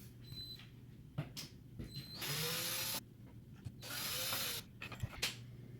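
A power drill whirs in two loud bursts of about a second each, removing screws from a panel, separated by clicks and quiet handling noises.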